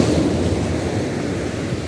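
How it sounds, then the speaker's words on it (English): Rough ocean surf pounds the beach at Maunabo, Puerto Rico, a loud continuous roar of breaking waves mixed with wind buffeting the microphone, with no voices heard. "Lo único que está la playa brava."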